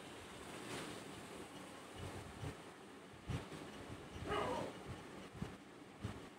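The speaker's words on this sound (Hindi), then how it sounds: "प्याज डाल के इसको हम भूंज लेंगे ताकि प्याज का कच्चापन दूर हो जाए।" Onions and green chillies fry in hot oil in a wok, a quiet, continuous sizzling hiss with a few soft stirring knocks, heard close.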